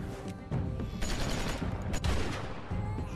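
Gunfire in The Walking Dead Season 2 game, several shots and bursts in a steady loud clash that runs throughout, layered over music and game noise.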